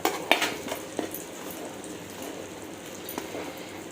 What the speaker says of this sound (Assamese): মই ভাবিছোঁ এতিয়া নহৰুখিনি ইয়াতে অকণমান ফ্ৰাই কৰি ল'ম।